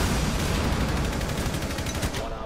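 Rapid automatic gunfire in Rainbow Six Siege, a dense, loud, continuous burst of closely spaced shots that tapers slightly at the end, with no clear talking over it.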